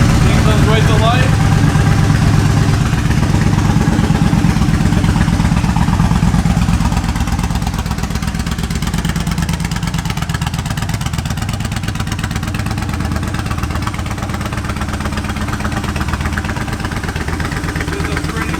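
A 2007 Yamaha V-Star 1300 motorcycle idles close by with a steady, loud, low rumble that holds throughout and eases slightly after the first few seconds.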